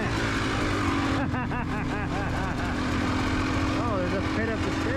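A 300XCW dirt bike rides a Utah trail, its engine droning steadily and close throughout, with some pitch rises as the rider throttles, under a talking voice.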